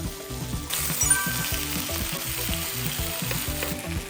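Korean BBQ chicken sizzles steadily on high heat, a dense, loud frying hiss that holds up close and unbroken, with no talking.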